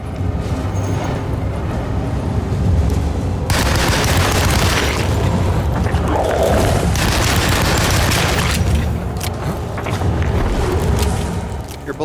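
Booming gunfire from the 2024 Alone in the Dark on PC, loud dense bursts of shots and blasts that stack up through most of the stretch, with heavy low rumble and sharp broadband cracks.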